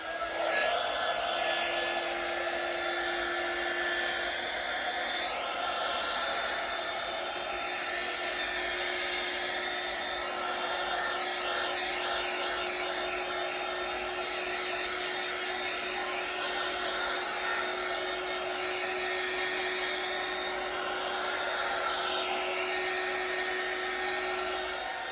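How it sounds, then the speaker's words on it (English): An electric flameless heat embossing tool blows hot air with a steady, loud, continuous whine and whoosh. It runs unbroken and close for the whole stretch, with a constant high-pitched motor tone and no speech. "I got a new tool that I'm going to try, and it is a heat tool with no flame."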